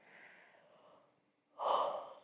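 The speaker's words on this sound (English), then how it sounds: "I keep yawning." A person yawning indoors, a soft drawn-out breath fading to quiet, followed by a louder, breathy exhale-like gasp near the microphone.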